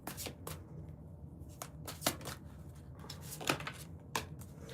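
Tarot cards shuffled and drawn by hand during a reading: quiet, close riffles and sharp snapping flicks at irregular intervals over a soft background, with no talking.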